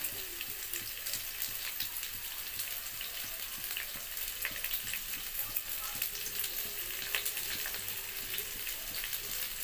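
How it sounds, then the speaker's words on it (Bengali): Mixed vegetables with green chillies fry in a kadai for a curry, giving a steady, close, crackling sizzle with soft scraping as they are stirred throughout, with no voices. "খুব সুন্দর করে এইভাবে নাড়িয়ে চাড়িয়ে পুরো সবজিটাকে ভাজা করে নেওয়া হবে।"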